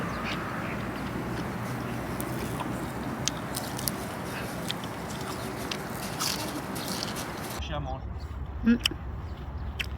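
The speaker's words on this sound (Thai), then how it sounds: "เป็ดเรียกกินอาหาร" Ducks quack close by amid people talking, with a loud quack standing out near the end after the background noise drops away.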